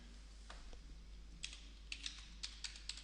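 Quiet, close keystrokes on a computer keyboard, a few scattered taps at first and then a quicker run of clicks over a low steady hum, with no talking.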